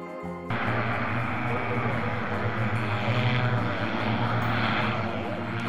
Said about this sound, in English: The EHang 216 is a Chinese autonomous air taxi designed for two passengers, fully electric and pilot-free